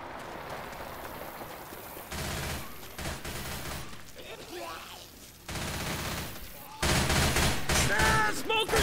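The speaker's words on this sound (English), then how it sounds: "Machine gun." Video game machine gun fire in Left 4 Dead 2 rattles in loud, dense bursts that start and stop abruptly, with sharp jumps in intensity and other game effects mixed in.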